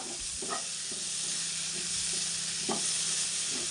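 Chopped tomato is stirred into cauliflower masala frying in a pan, a few soft spatula scrapes and taps over a loud, continuous sizzle.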